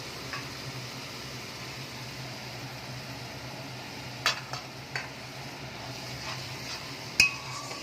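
Ginger garlic paste stirred in a pan for chicken kofta curry, a soft steady sizzle with a few spoon clinks and scrapes against the metal, close and fairly quiet.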